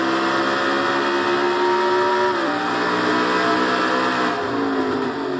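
Loud, continuous engine drone of a race car in a racing video game pulling out of a turn onto the front stretch, pitch dipping once briefly before climbing steadily again.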